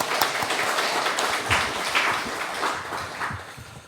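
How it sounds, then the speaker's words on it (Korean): A church congregation gives a round of encouraging applause, a broad steady clapping texture that swells and gradually thins. "우리 모두에게 또 격려의 박수 올리겠습니다."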